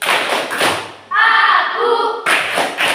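A class plays the rhythmic 'tepuk konsentrasi' clapping game, sharp close claps and thuds in quick bursts with a brief chanted voice in between.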